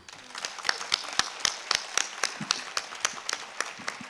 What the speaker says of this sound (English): He needs a big clap.